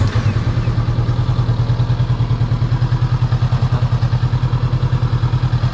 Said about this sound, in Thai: เดี๋ยวเปิดสตาร์ทรถแป๊บนึง